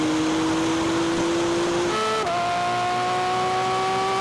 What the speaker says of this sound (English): Both cars launch hard, but look at the Porsche's immediate grip.